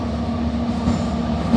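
A CSX U100 freight train rolls past in Charlottesville, Virginia, with a loud, steady rumble, a low engine drone and a faint steel-wheel whine throughout.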